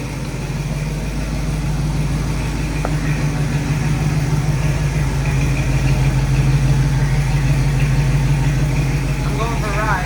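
A 1968 Chevrolet Camaro with a 327 V8 rumbles steadily and close, with a deep, continuous engine drone that stays even throughout and has faint speech in the background.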